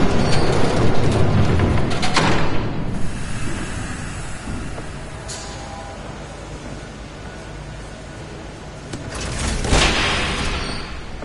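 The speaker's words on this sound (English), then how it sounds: "There's a train coming." A train rumbles past in the Batman: The Telltale Series video game, a steady, broad, roaring wash of noise that swells again near the end, loud and continuous, with no voices over it.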